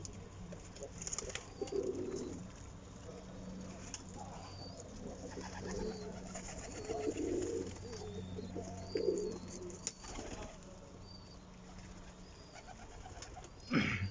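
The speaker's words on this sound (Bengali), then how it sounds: "অনেক সুন্দর সুন্দর কবুতর।" Pigeons of various breeds kept as a hobby coo softly and steadily, with low, repeated throaty calls over a faint background of other bird chirps and no talk.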